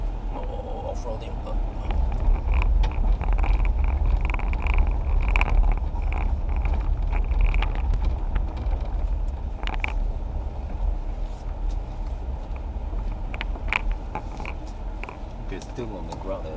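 A Fisker Ocean electric car drives off-road in sub-zero cold, giving a low steady rumble with frequent creaks and rattles from the cabin and suspension while people talk over it.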